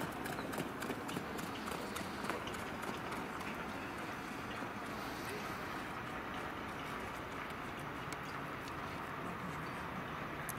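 Harness racing horses trot at a trial meeting in Mildura, a steady, rapid clatter of hooves sounding continuously and fairly close.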